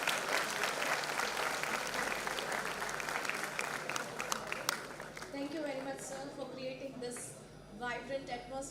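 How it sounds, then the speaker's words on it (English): Audience applause at an IEEE R10 Humanitarian Technology Conference event for Marwadi University, a broad steady wash of clapping that thins toward the end as a voice begins speaking over it. "Have a big round of applause for Marwadi University and all the audience."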